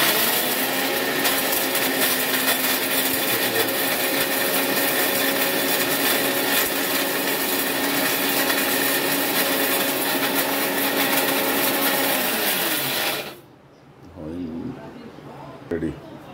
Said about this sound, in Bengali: এবার এখন এটাকে মিক্সিতে গুঁড়ো করব